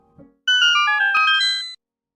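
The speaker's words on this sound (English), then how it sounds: "Remember the secret sound?" A bright, sparkling secret-discovered jingle from Hyper Light Drifter, rising chime-like tones ringing out for about a second after a short soft noise, then stopping abruptly.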